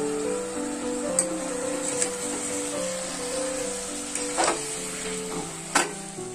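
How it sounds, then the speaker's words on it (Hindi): Vegetables with cumin powder, coriander powder and salt mixed and fried in a pan: a continuous sizzle with a low hum underneath and a few bright scraping clinks of the spoon against the pan. "फिर अच्छी तरह से वेजिटेबल को मिक्स कर लूंगी"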